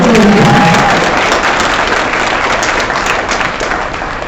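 Sustained applause from a large crowd fills the room, steady and loud, gradually easing slightly toward the end.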